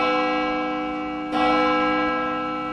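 A bell rings with one sharp strike partway through over a sustained ringing tone, and the resonant hum decays slowly afterward. No one speaks.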